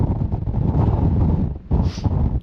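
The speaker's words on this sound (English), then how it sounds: "Hopefully the wind noise isn't too bad" Strong gusts buffet the microphone at Kumbhalgarh Fort in India, a loud, deep rumbling roar that surges continuously, dips briefly, then returns just as heavy.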